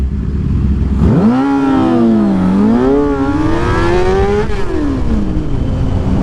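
A motorcycle engine revs hard and close while racing, its pitch sweeping up sharply then wavering and climbing through gears before dropping away, loud over steady wind rush.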